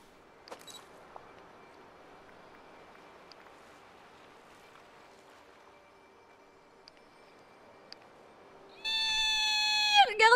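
A pet cat in the Disney Dreamlight Valley video game gives one clear, close meow near the end, after a long stretch of near silence with a few faint clicks.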